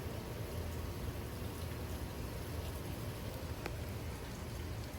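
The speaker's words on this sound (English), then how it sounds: "It's just raindrops falling from it." Steady drizzle of raindrops pattering down from cypress branches after a severe thunderstorm in Frisco, Texas, a dense, even hiss with a few sharper isolated drips, no voices.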